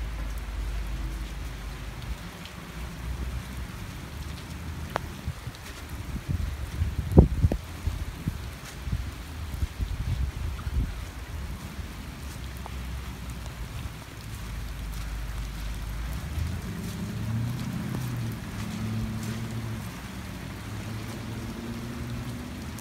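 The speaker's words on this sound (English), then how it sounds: "it is raining really hard" Heavy rain pours steadily outdoors in a constant hiss, with a few sharp close taps and rustles midway and a low rumble building near the end.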